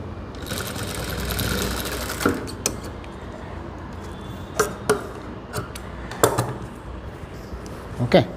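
Sewing machine stitching a blouse runs in a steady whirring burst for the first two seconds, then gives way to scattered short clicks and handling knocks at close range, with no talk.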